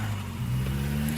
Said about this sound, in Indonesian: kunyalakan mobilnya